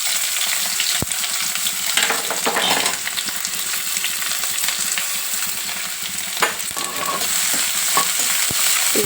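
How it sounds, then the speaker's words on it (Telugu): Sliced onions fry in a pan for a fish curry with a steady, close sizzle, broken by occasional scraping stirs and clinks of a utensil, with no talking. "ఇది కూడా గోల్డెన్ బ్రౌన్ కలర్కి వచ్చేదాకా ఫ్రై చేసుకుందాం"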